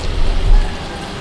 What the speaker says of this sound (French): Let's go sous la pluie